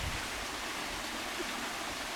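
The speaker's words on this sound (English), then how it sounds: "There's also a pipe coming in, which I think's all the rainwater" Rainwater pours from a pipe into a river beside a lock, making a steady, broadband rush of splashing water that holds constant and fairly close throughout, with no voices.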